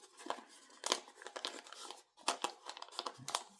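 Newspaper being folded into a seedling pot: close, quiet crinkling and crackling of paper in short irregular bursts, with a brief pause midway.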